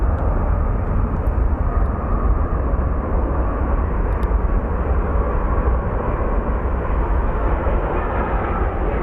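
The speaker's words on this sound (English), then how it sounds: "we do have an A319 coming in from Santa Barbara" An Airbus A319 arriving from Santa Barbara lands at Phoenix Sky Harbor International Airport, its engines a loud, unbroken roar that holds steady throughout with no voices.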